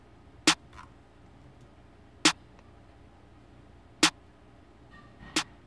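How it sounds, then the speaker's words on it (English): Four crisp snare drum hits ring out alone at an even, unhurried spacing in a programmed trap-style beat, each a sharp, bright crack with a quick decay. "And snare."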